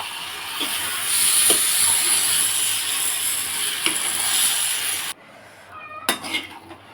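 Chicken hitting a hot pan with a loud, steady hiss and sizzle and a few utensil clinks, close up, before the sizzle suddenly drops away, leaving quieter clatter.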